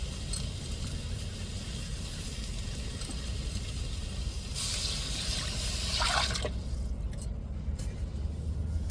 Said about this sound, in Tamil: இப்போ நம்ம கரைச்சி வச்சிருக்கிற புளி தண்ணியை சேர்த்துக்கிடுவோம்.